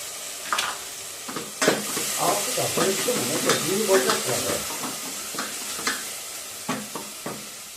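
A small spoonful of rice sautés in a pan, giving a soft, continuous sizzle broken by irregular scraping and stirring clatter from a spoon, fairly close and moderate in volume; no talking.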